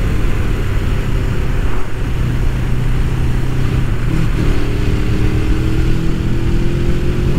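A 1989 Suzuki GS500 cafe racer motorcycle on a test ride drones loud and steady from the rider's position, engine pitch climbing gradually later on, under constant wind rush.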